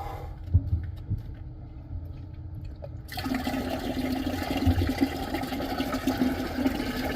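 Boiling water poured down a drain into old cast iron plumbing, a quiet gurgle that suddenly turns into a loud, continuous rushing and sloshing of water through the pipes, close by and without talk.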